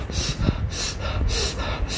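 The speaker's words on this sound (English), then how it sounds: "breathing through the nose, through the mouth, for core activation" Strong, rhythmic breaths through the nose and mouth during a no-equipment home core workout, four forceful gusty bursts spaced about half a second apart, close and loud over a low, steady background.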